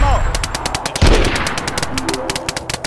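Rapid automatic gunfire from DayZ rattles in a fast, steady burst, loud and close, with a heavier boom near the middle and the shots continuing in an even rhythm to the end.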